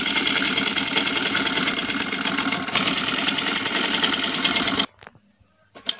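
A sewing machine running steadily as it stitches the side seam of a fabric cage cover for black francolins, a loud continuous mechanical whir with a brief hitch midway, then stopping abruptly into near silence before a short restart.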